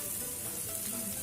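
Food frying in a pan after salt and turmeric are added, a faint, steady hiss and sizzle with no voices.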